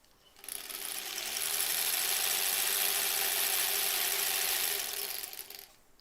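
A sewing machine stitches quilt block strips in one continuous, steady high-pitched whirring run lasting about five seconds, rising in at the start and winding down at the end.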